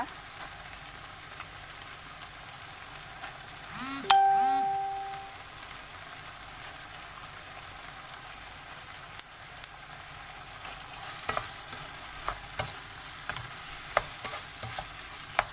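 Tomatoes frying in a pan for a Thai stir-fried macaroni with minced pork, a steady soft sizzle with a spoon scraping and stirring, a brief ringing clank early on and scattered light taps later.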